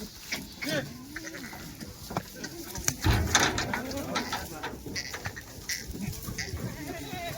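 Several dairy goats bleating close by, calls overlapping irregularly amid farmyard bustle, with some bird chatter in the background.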